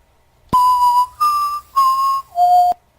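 Someone whistles the Hunger Games tune in a recording, four clear sustained notes with short gaps between them, the last note dropping lower, loud and close with no talk.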